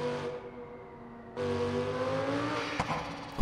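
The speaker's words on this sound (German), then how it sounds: "dieses Schnattern von dem Turbolader" Lamborghini Gallardo in BeamNG.drive runs with a steady engine drone, then the tone jumps as it revs, with a brief fluttering chatter from the turbocharger near the end; close and fairly loud.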